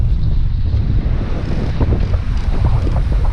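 A sailboat under sail in a stiff wind off Kodiak, with loud continuous wind buffeting on the microphone and water rushing and slapping against the hull close by.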